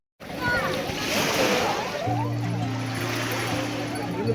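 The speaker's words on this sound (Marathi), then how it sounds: "तर तुम्ही इकडे बघू शकता सगळेजण आंघोळ करतात ते समुद्रामध्ये." Crowds bathe in the sea at Rameshwaram before dawn, with continuous splashing and surf wash close by, while a low steady hum runs underneath in the second half.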